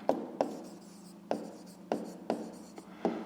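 Pen writing by hand on paper while a math exercise is worked out, heard as a close series of sharp, scratchy strokes and taps in irregular bursts, with no talking.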